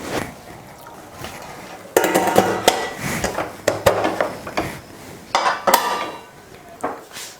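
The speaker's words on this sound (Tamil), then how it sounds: "குக்கர் மூடி போட்டு விசில் போட்டாச்சு." A metal pressure cooker lid is set down and closed and the whistle weight is fitted on top, with clanks, scrapes and sharp metallic knocks in uneven bursts close by in a kitchen.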